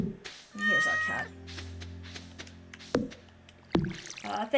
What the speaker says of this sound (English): Here's our cat.